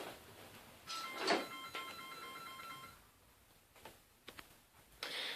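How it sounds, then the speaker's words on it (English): A telephone rings with a steady electronic trill, repeating tones held for about two seconds in a quiet indoor room, followed by a few soft knocks and rustles. "Excuse the phone."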